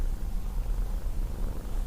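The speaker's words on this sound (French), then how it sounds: "si tu entends des ronronnements, c'est normal, c'est mon petit chat" A small domestic cat, just woken from a nap, purrs close by in a steady, continuous low rumble that runs through the whole stretch with no talking over it.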